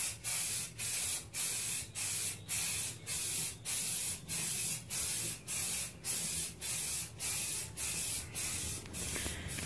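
Short spray-paint bursts repeat in a steady rhythm, roughly a dozen even hisses close by, as a second coat goes onto the interior of an 1982 Chevy K5.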